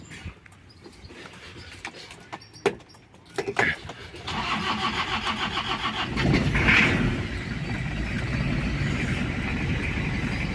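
A Toyota Kijang diesel with a fuel pump fault and overheating trouble cranks with clicks and whirs, then catches under throttle and settles into a loud, rough, clattering idle, with people talking nearby.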